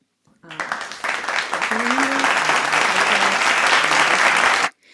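Steady applause from a crowd fills the whole stretch, starting abruptly and cutting off sharply, with a faint talking voice underneath.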